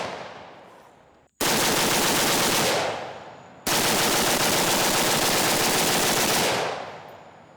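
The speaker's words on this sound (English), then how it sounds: "This is one of the flattest shooting guns I've ever shot." Two long, loud bursts of full-auto fire from an AK rifle, each sustained for a couple of seconds with a short gap between, close and dominant with no talk over it.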